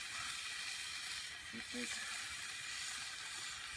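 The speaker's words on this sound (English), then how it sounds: "So let's get the bacon going." Bacon sizzling in two cast iron skillets on a Camp Chef stove, a steady broad hiss running throughout with a brief spoken remark over it.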